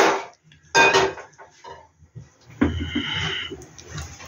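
A metal kadai wok is set down on a home stove, giving a couple of sharp clanks and scrapes of metal on metal, close and fairly loud, with quieter shuffling between.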